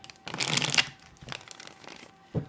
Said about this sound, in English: I just want to give it a good shuffle.